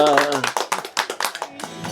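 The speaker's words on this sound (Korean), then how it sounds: "자, 우리 박수 치고 목요일 시작하겠습니다." A church congregation at a Thursday worship service claps hands in a steady rhythmic beat, close and bright, mixed with voices.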